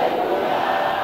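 Many voices of a church crowd cry out in unison, a brief, steady and loud collective shout with no single voice standing out.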